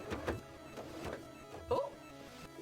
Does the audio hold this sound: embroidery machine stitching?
yes